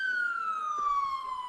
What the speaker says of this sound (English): there's a very loud siren right behind me.